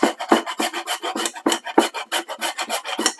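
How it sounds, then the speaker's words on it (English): Fresh whole nutmeg is rubbed against a grater, a rapid run of close, crisp rasping strokes in an even back-and-forth rhythm, about a dozen scrapes in quick succession with no voices. "Give it a good little grate."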